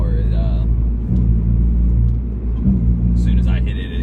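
A 2002–2004 Acura RSX Type-S engine bogging at low RPM, a loud, flat, droning rumble that fails to climb in pitch, with brief vocal sounds heard over it.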